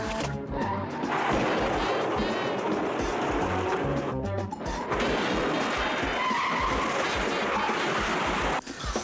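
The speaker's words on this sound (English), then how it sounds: "You see the way this car is coming apart?" A car is wrecked and skids, with a long roaring grind of tires and scraping metal, loud and sustained, broken by brief gaps and sharp crunches.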